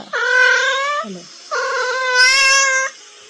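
A cat meows loudly twice, each call long and drawn out, with a short pause between them.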